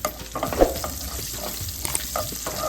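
Quiet sizzling hot oil with mustard seeds, cumin, a pinch of asafoetida and chopped green chillies, small crackling pops scattered throughout, and a few light scrapes of a spoon nearby.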